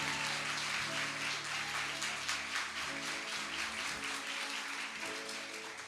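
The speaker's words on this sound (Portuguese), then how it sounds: "aplauda o Senhor bem forte aí no seu lugar" Church congregation applauding from their seats during a sermon, a steady wash of clapping with some low musical or voice tones underneath throughout.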